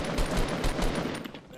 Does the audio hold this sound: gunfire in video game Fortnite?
yes